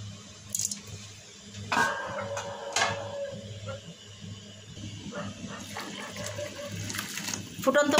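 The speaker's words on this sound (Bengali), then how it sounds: "ফুটন্ত পানি দিয়ে দিলাম, এখন তাড়াতাড়ি রান্না হয়ে যাবে" Boiling water is poured into a pot of vegetables and lentils, giving a soft splashing pour with a few clinks of utensils nearby, fairly quiet against a low steady hum.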